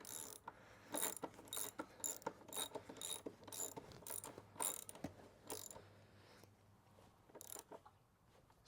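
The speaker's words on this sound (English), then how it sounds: "And then we just screw this front axle back in." The front axle of a CFMoto 450MT Ibex motorcycle is screwed back in, making a steady run of close, rapid ratchet clicks from a hand wrench that grow sparser toward the end.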